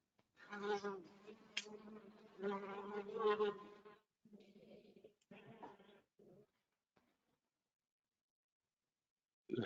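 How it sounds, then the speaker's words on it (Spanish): A steady droning buzz of bees comes in several stretches, then fades into near silence. "Se oyen las abejas."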